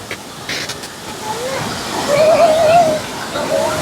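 Steady rushing roar of a large waterfall in Kerala, falling from about 80 feet, heard as continuous broadband water noise at a moderate distance with brief faint sounds over it.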